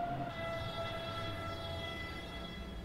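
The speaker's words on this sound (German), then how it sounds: "Hier schon wieder die nächste S-Bahn." S3 S-Bahn commuter train to Maisach in the Train Sim World 5 simulator on the Munich–Augsburg line, a steady rolling rumble with a sustained whine, continuous and fairly close, no talking.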